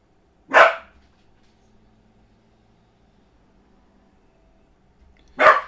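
A dog gives two short, loud barks about five seconds apart, indoors near the microphone, with a quiet low hum in between.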